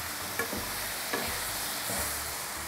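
Apple slices with cinnamon fry in a pan for an apple tart, giving a steady soft sizzle with a few faint stirring scrapes.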